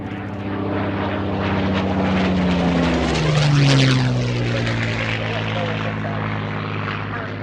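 A Spitfire propeller fighter roars past at an evening air show, the loud engine drone swelling toward a peak mid-pass with a clear Doppler drop, then holding steady as it moves away.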